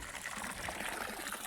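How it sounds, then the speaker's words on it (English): Fresh, ice-cold running water flows steadily at a roadside picnic spot, a soft continuous trickling gush close by with no talk over it. "there's some fresh running water,"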